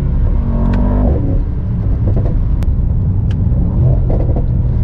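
A 2022 Mercedes SL55 AMG V8 in Sport Plus drops a gear and the engine pitch sweeps downward, then settles into a loud, steady rumble with some clicks and knocks, heard from inside the cabin.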